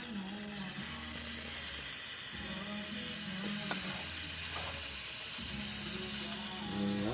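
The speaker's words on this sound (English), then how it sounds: "run some steam" Breville 800ESXL espresso machine steam wand running with a steady, loud hiss throughout, alongside a low intermittent humming drone from the machine; the unit has a weak-steam fault that stops it frothing milk.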